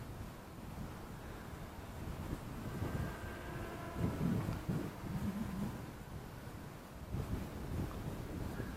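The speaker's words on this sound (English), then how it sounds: "Wind's blowing them around." Strong wind rushes over the microphone at a South Jersey campground, a continuous loud, roaring buffet with gusts rising and falling throughout and no voices.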